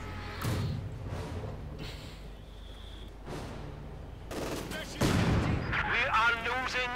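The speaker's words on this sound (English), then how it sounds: "Incendiary artillery has arrived." Incendiary artillery in Company of Heroes 2 lands as a series of heavy booms and bursts, several strikes spaced across the stretch, with the last blasts louder and crackling amid battle noise.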